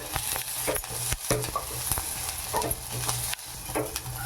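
Onions and dried chillies fry in a pan, a steady close hiss and sizzle broken by scraping stirs and light clicks of a spoon against the metal, with no voices.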